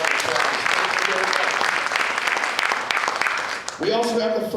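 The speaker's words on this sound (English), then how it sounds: "Let's give them a round of applause." Audience at a community theatre show claps in a sustained, dense round of applause from a full room, fading slightly near the end as a voice begins speaking.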